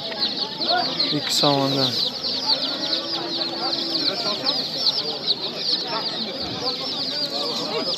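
Incubator-hatched chicks chirp in a busy cluster of high, rapid peeps at a livestock market, continuous and fairly close, with a hen's clucking and a few low voices talking in the background.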